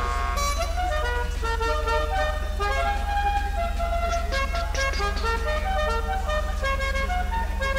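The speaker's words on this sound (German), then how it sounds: "Ja, das ist die beste Hupe ever." A custom car horn in Grand Theft Auto V plays a continuous melodic, musical honking tune, loud and steady for several seconds over a low engine drone.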